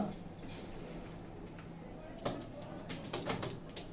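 Soft cooing of racing pigeons, low and fairly quiet, under a steady background hiss with scattered light clicks and taps.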